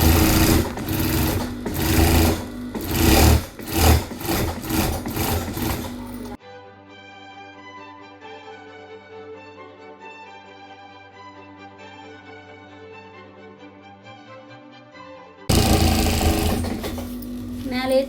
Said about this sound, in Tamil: இந்த ஒயர் மேலேயே நம்ம தையல் போடணும்